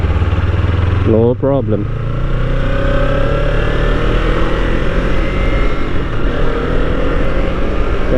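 Kawasaki Ninja 300 motorcycle engine holding a steady drone while riding, with a brief rev blip around a downshift from third to second gear; a rider speaks briefly over the close engine and wind noise.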